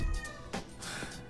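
A pet cat gives a brief, faint meow close by, with no talk.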